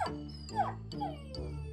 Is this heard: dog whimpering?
yes